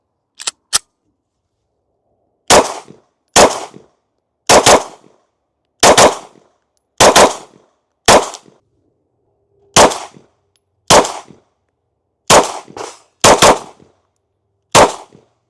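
A CZ P10c ported pistol fires about thirteen sharp, loud shots at a 7-yard range, singly and in quick pairs with short silent gaps between them.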